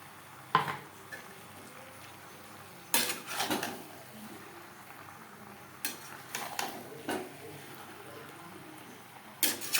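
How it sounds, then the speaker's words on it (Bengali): Jackfruit and potato stirred with spices in a pan, heard as a few sharp, separate scraping clinks of a utensil against the metal pan over a quiet background. "আলু ও এঁচোড় 3-4 মিনিট বেশ ভালো করে কষিয়ে নেব।"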